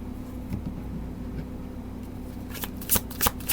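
Tarot cards shuffled by hand during a Taurus reading, a soft steady riffling rustle with a few sharper snaps and slaps near the end, close and fairly quiet, no talking.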